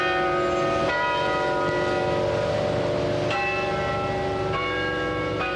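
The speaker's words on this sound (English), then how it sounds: "The bells of St. Michael's rang loudly today, almost defiantly" Church bells of St. Michael's in Charleston pealing loudly and steadily, overlapping rich ringing tones with fresh strikes landing every couple of seconds, filling the air without any voices.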